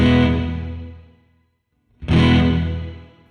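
Guitar played through the shimmer reverb effect built into a Donner HUSH-I PRO travel guitar: a sustained chord rings out and fades to near silence, then a second strum swells back in, lush and washy.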